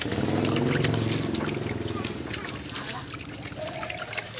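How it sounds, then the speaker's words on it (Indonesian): Probiotic liquid splashes and trickles onto a heap of banana-stem livestock feed being fermented, a wet pattering that fades, while a voice talks over it. "Nah, seperti ini, kita siram seperti ini."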